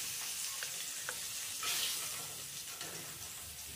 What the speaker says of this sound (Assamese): এয়া মাছটো পিছ ফ্ৰাই হৈয়ে গৈছে